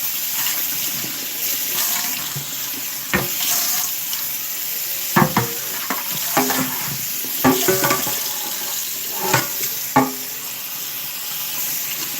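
Food sizzles with a constant bright hiss in a non-stick pan, broken by intermittent scraping and clacking strokes as it is stirred, with no one talking.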